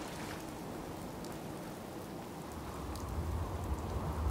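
Steady rain falls in the Fallout 4 video game, a dense even patter that swells a little louder toward the end, with no voices.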